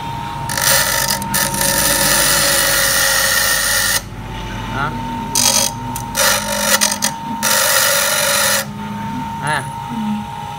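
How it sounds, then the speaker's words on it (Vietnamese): A two-wheel bench grinder cuts into metal in rough, rasping bursts of several seconds each, with brief pauses between them, over a quiet, steady motor hum. "Đây mình mài thử cho bạn xem nè."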